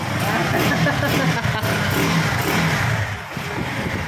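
A Bajaj Pulsar NS160 motorcycle engine converted from fuel injection to a carburetor runs close by with a steady, loud mid-pitched drone, and people talk over it.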